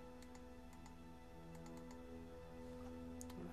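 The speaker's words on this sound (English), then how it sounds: "Is the mouse click really loud? I can hear it in the mic." Soft, sparse clicks repeat at irregular intervals over a steady low electronic hum, close to the mic and fairly quiet, like a computer mouse being clicked while playing Star Trek: Birth of the Federation.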